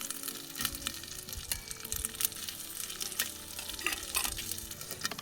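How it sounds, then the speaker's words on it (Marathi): Roasted onion and coconut paste with garam masala being sautéed for mutton on a village wood-fired stove, a soft continuous sizzle with irregular stirring scrapes close by, no talk. "तर हे भाजलेला कांदा आणि भाजलेलं खोबऱ्याचं वाटण आहे तर हे चांगलं परतून घेते"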